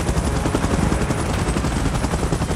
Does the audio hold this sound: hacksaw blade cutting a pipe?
no